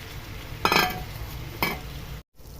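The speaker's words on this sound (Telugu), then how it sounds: "టమాటా ముక్కలు వేస్తున్నాను." Tomato pieces drop into a hot pan for a plantain tomato curry, giving two short bursts of sizzling a second apart over a steady low kitchen hum, with no voices.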